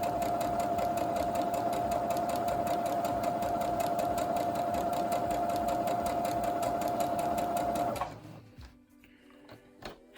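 A sewing machine stitches quilt fabric at a steady, fast mechanical whir with a rapid even needle rhythm, running loud and close for about eight seconds before stopping, leaving faint handling noises.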